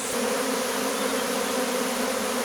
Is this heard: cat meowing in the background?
no